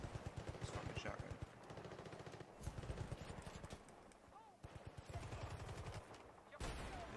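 Shotgun fire in the video game Battlefield Bad Company 2, delivered in rapid repeated bursts of blasts that come in several clusters, with a player's voice talking over parts of it.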